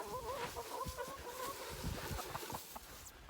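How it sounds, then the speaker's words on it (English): Backyard chickens cluck and murmur close by as feed is scattered around trees, a busy run of soft clucks and short calls throughout. "And then the chickens will go in there and peck and scratch and eat."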